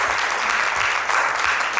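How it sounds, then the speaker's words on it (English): Applause from a birthday gathering for the hosts of an 80th birthday celebration, a steady dense wash of many hands clapping at close range, filling the short moment without any voices. "if we could give them a round of applause as well"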